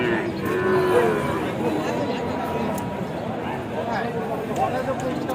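Native bullocks and other cattle moo repeatedly at a busy rural livestock market in Joypurhat, with low, drawn-out calls rising over steady crowd chatter and nearby talk.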